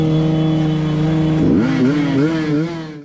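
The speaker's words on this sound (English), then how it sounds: "The loud roar of the engine echoed through the trees," Motorbike engine revving loudly and close, holding a steady roar with strong harmonic tones, then dipping and climbing through a couple of throttle changes before fading slightly.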